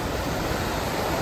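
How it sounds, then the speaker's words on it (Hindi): Waterfall on the Amarnath Yatra mountain route toward Panchtarni, a steady dense roar of falling water that fills the whole clip evenly with no breaks. "ऊपर से झरना आ रहा है, और देखिए नीचे ये बिल्कुल ये पंचतरनी में ही जाता है झरना डायरेक्ट"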